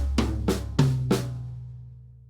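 Drum kit toms hit four times at an even pace, moving low to high in an eighth-note pattern for a grade 3 piece, each strike ringing over a sustained low hum, then decaying.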